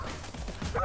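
Dogs barking in the video game Tokyo Jungle, a quick run of yipping, bow-wow barks against a busy game soundscape, with no talk.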